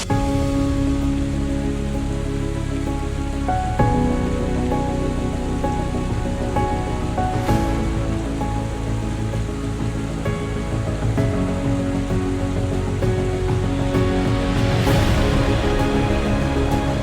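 Athirappilly waterfall in Kerala pours from a great height down the hillside, a steady, dense roar of falling water that continues unbroken throughout, loud and close with no voices.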